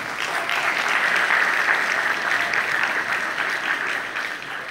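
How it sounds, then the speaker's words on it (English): At a school graduation ceremony, an audience applauds with a sustained, even wash of many hands clapping, fairly loud and continuous across the whole stretch with no voices on top. "give the directors of this school a splendid round of applause"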